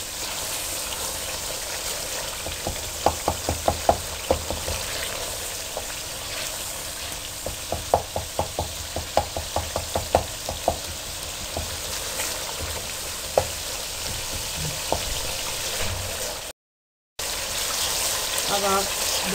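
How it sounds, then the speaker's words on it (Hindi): Masala spice paste sizzles and fries in hot oil for keema, a dense constant crackle broken by bursts of sharp spoon-scraping stirs and clinks, with one brief gap near the end. "इसको 1 मिनट के लिए और भून के फिर हम इसमें कीमा डालते हैं"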